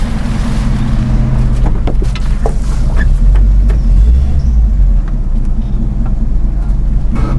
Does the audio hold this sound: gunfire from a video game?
no